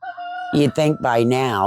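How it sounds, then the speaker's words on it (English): A neighbor's rooster crows once, loud and clear, with a long drawn-out call, right after someone speaks briefly. "if you hear that rooster in the background"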